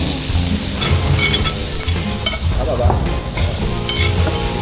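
Award-winning sisig sizzling loudly on a hot pan while being stirred and mixed, with scraping and clinking of utensils over a continuous close fry; a voice murmurs briefly in the background.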